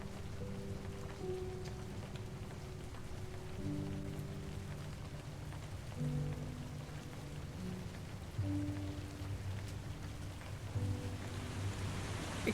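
Pouring rain in a video game, a steady dense hiss of rainfall on surfaces with a low tonal music bed underneath, no voices.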